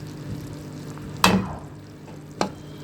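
Semolina frying in ghee in a pan for laddu, a steady soft sizzle with two sharp stirring scrapes, the first louder, close up and with no talk.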